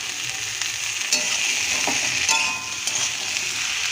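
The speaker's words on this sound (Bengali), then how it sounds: "আলুটা আমার সেদ্ধ করা ছিল, এইবার আমি কাবলি ছোলা দিয়ে দিচ্ছি।" Kabuli chickpeas frying with boiled potatoes in a pan for Bengali-style chana masala, a steady, close hiss of sizzling oil with a few brief scrapes and clinks as the mixture is stirred.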